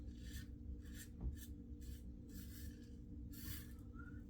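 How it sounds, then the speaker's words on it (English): A heavy solid-handle razor makes a shaving pass: a run of quiet, close rasping strokes, about eight short scrapes in an uneven rhythm. "Pass 3, the weight of the razor is doing a great job."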